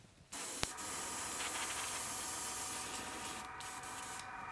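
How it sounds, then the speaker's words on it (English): Water pushed through a spray gun hisses steadily into a bin for about four seconds after a short click, a close, continuous spray with slight variations in intensity. "Now, carefully, I want to spray that."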